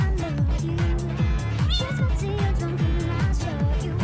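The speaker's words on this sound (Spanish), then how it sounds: "Este gato es mejor que el otro" A cat in the Minecraft video game meows in a quick repeating series of short calls, loud and near, with speech partly over it and game music underneath.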